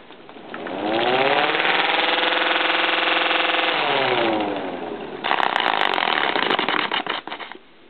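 A cheap plastic toy siren spins up into a loud, rising wail, holds a steady whine for a few seconds, then shifts to a harsher buzzing tone with a finger pressed against it before winding down.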